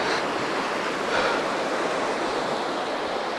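River water rushes steadily over a ford in the Newton Tors countryside, a continuous broadband wash that stays close and fairly loud without pause or voices.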